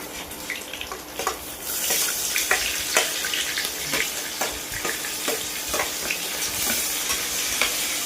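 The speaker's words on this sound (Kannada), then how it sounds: "ಸೊ ಇವಾಗ ಈರುಳ್ಳಿನ ಸ್ವಲ್ಪ ಫ್ರೈ ಮಾಡ್ಕೋಬೇಕಾಗತ್ತೆ." Chopped onion with green chillies frying in a pan for Karnataka-style tomato rice, a steady sizzle with scattered clinks and scrapes of stirring throughout, no voices.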